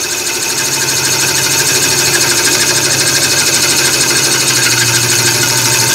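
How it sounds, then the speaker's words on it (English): A Robert Sorby spiralling system cutter cutting grooves on a lathe, a loud, steady, rapidly pulsing buzz that holds an even texture throughout with no talking. "The cutter is just now working in the opposite direction."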